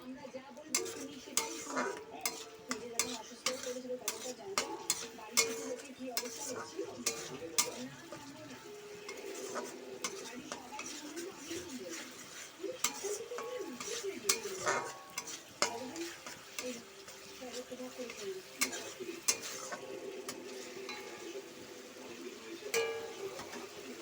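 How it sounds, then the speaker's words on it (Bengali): Spices and tomatoes are stirred and fried in a pan for a thin rohu-roe and lentil-fritter curry, with repeated sharp scrapes and clicks of a utensil against the pan over a continuous low sizzle. "টমেটোগুলো দিয়ে দিলাম, দিয়ে নাড়াচাড়া করে মশলাটা কষিয়ে নেব।"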